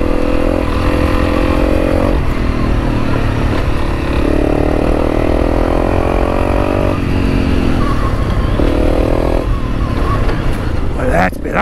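Honda CRF300L Rally motorcycle engine revving and accelerating hard on a ride near Avoca, loud and steady throughout with rising pitch sweeps as it opens up, heavy wind rumble underneath, a rider's voice talking over the engine.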